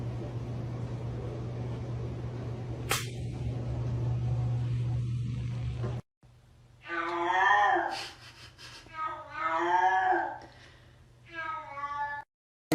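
A cat meows twice in close succession, clear and near, with drawn-out wavering cries after a stretch of steady low humming background and a brief sharp click.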